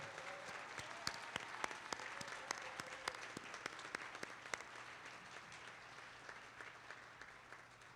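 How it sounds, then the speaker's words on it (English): A commencement audience applauds the graduating class of 2021 in a large hall, steady dense clapping with sharp individual claps standing out, slowly thinning toward the end. "Let's have one more round of applause for the graduating class of 2021."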